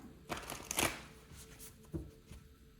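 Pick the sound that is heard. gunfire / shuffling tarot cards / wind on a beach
shuffling tarot cards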